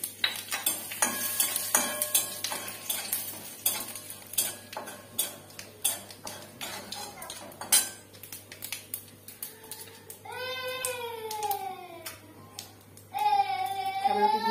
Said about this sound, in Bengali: শুকনো লঙ্কা, জিরে ফোড়ন দেবো।